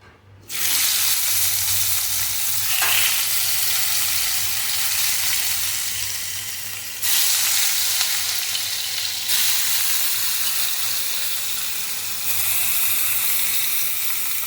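Fish sizzling and frying in hot oil for Bengali shorshe bhola, a loud steady hiss throughout with a brief spatter burst near the start and slight surges as pieces shift.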